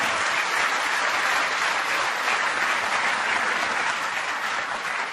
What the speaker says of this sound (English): You guys all deserve a round of applause